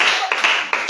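A church congregation applauds, a short burst of many hands clapping together in quick uneven bursts, close and loud.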